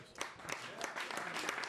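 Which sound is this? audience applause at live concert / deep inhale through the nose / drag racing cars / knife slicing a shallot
audience applause at live concert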